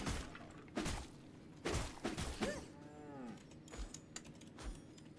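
A cow lets out a loud drawn-out moo near the middle, surrounded by heavy thumps and crashing bursts of impact noise before and after it.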